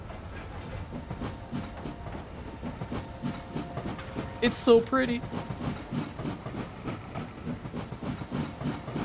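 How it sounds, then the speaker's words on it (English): A train rolls along through farm fields in the city-building game Anno 1800 with a rhythmic clickety-clack of wheels over rail joints and a brief hiss of steam midway, while a person talks quietly over it. "I want to see the train go through the fields now"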